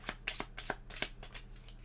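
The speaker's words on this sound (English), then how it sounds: "The first thing we're going to do is shuffle up our monster attack cards" Monster attack cards for the Crypt of Chaos board game are shuffled by hand, giving quick, quiet riffling bursts in a rapid run of soft papery snaps.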